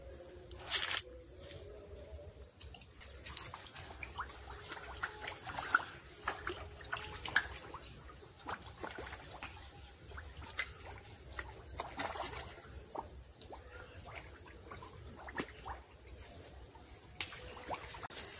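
Fish rise at a pond surface after being fed, producing scattered soft splashes, sloshes and little slaps of water, faint and irregular over a quiet outdoor background.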